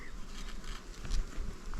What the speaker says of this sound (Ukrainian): Бджоли повно і це добре.